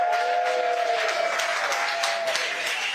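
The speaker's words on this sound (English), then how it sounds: "They are not clapping for a stuffy nose." A crowd claps in a steady, dense burst, loud and sustained, with a high tonal whine running through the first part.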